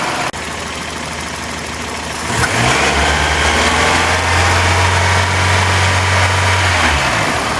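A car engine with 280,000 km on it starts up and settles into a steady, close idle, a low continuous hum with no voices.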